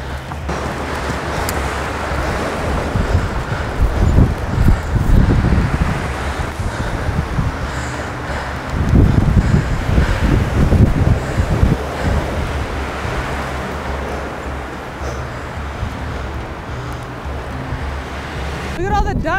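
Wind rushes across a steep mountain trail in Coconino National Forest, a continuous rough roar against the microphone that swells into stronger gusts twice before easing back.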